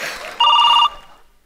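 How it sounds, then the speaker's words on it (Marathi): A telephone rings once, a single short, bright electronic burst that sounds close and clear, with only faint room noise before and after. "फोन आला."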